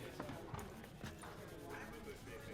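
Horse hooves clip-clop in The Witcher 3, a steady trotting rhythm mixed under dense game ambience and other sound.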